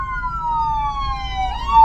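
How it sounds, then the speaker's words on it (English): Ambulance sirens wailing in steady rising and falling tones as they pass on the road, loud over traffic rumble, the pitch shifting near the end. "So we got these ambulances coming through"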